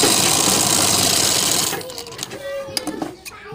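A sewing machine runs loud and steady while stitching a collar for a neck design, then stops partway through, leaving quieter handling noises.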